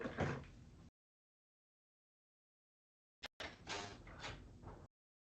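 A sliding door rumbles open in a short close burst, then after a silent gap a click and another longer rolling slide as it moves again.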